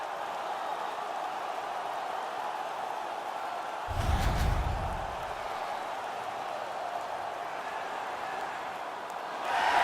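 A home arena crowd in the NHL 19 hockey game, San Jose Sharks against the Carolina Hurricanes, keeps up a steady distant roar, with a short deep swell midway and a rise at the end.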